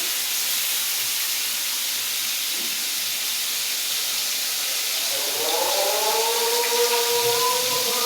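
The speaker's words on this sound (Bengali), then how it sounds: "তো মাছটা ভাজা হোক" Small fish frying in hot oil in a pan, a steady loud hissing sizzle, joined in the second half by a distant, drawn-out sung call over the frying.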